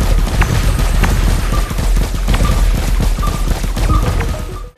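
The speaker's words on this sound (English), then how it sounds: "The gun sounds definitely did not work for me" Gunfire in the VR space shooter Astroroxx on Meta Quest 2, rapid repeated blasts with thumping low impacts and small electronic tones, loud and continuous, ending abruptly.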